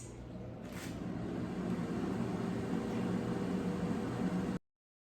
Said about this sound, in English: Now let's put the basket in the air fryer.